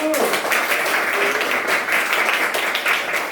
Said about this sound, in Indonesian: silakan tepuk tangan dulu